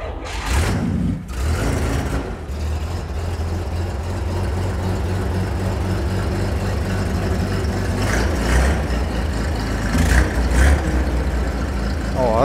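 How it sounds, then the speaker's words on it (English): A six-cylinder car engine cranks and catches, then settles into a steady low idle rumble with a few bursts of revving. "A 6-cylinder engine, let's see if we can fire it up."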